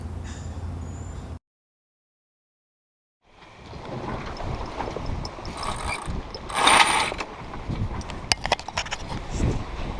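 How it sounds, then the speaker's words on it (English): Spinnaker rigging on a sailboat crossing the South Atlantic is worked by hand, with loud close ratcheting winch clicks, pulley squeaks and rope rubbing under wind noise, after an initial stretch of quiet. "The daily spinnaker wrestle and fight."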